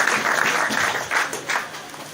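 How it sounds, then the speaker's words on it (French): A church congregation applauds for a woman at a prophet's gathering, steady loud clapping from a crowd throughout, with several swells of louder clapping and no talking over it. "Clap for our sister."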